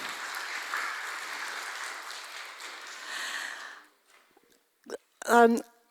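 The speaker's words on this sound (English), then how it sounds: "I think I deserve a round of applause." Broad, steady applause from a crowd for several seconds, then fading out, followed by a few brief noises and a short burst of voice.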